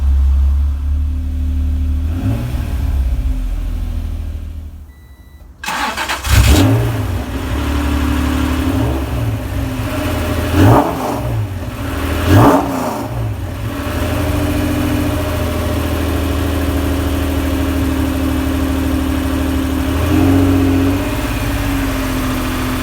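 A Honda NSX fitted with Manzo test pipes cold-starts, cranking briefly after a short gap, then settling into a rough idle punctuated by several sharp revs, loud and close.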